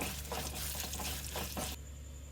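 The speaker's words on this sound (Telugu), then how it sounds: "ఒక స్పూన్ వరకు మినప్పప్పు కొద్దిగా ఆవాలు తుంచి పెట్టుకున్న రెండు ఎండుమిర్చి ముక్కలు వేసేసి ఒక్క నిమిషం ఫ్రై చేసేయండి" Urad dal, mustard seeds and dried red chilli pieces frying in a pan, a steady low hiss and crackle with a few soft stirring scrapes, then quieting to a faint background hum near the end.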